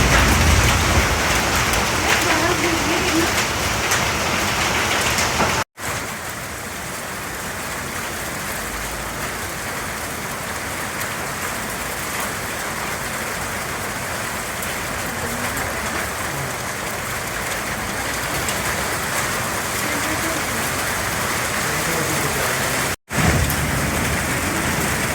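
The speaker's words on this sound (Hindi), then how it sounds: "अब तो रुकवा दो बारिश।" Heavy rain pours steadily on a wintry road in the Kashmir valley, a dense continuous hiss that fills the whole stretch without pause apart from two brief cuts.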